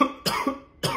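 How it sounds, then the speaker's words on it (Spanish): A person coughs on request in a comic doctor's-visit sketch: three distinct, fairly loud coughs in a little over a second, each a sharp burst, with no talk between them. "A ver, tosa. Tosa más."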